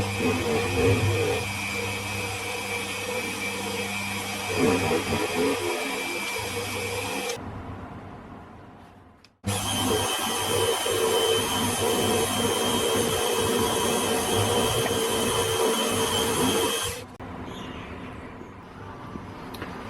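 A small mini fly cutter with a 0.4 nose radius tip mills metal at around 1300 RPM, a steady whirring machining drone that stops abruptly partway, then runs again before fading to quieter background.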